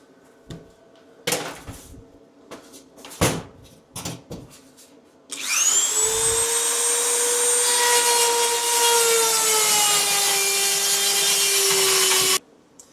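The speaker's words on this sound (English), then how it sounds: "we'll just do that with the carbide burr" A carbide burr in a rotary tool cutting a slot in metal: a few knocks and handling clatter, then a loud continuous high-pitched whine with a slightly dropping tone as the burr grinds steadily for about seven seconds before stopping.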